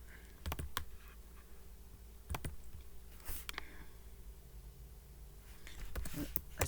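Someone types on a computer keyboard: sparse clusters of close, quiet key clicks separated by pauses over a faint room hiss.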